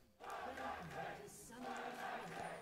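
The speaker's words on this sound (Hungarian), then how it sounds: "Az európai tömeg a hangját adja a mérkőzéshez" A European crowd at the 2018 MSI League of Legends esports match between Kingzone and Fnatic roars and cheers in a sustained, fairly distant swell that fills the arena for nearly three seconds.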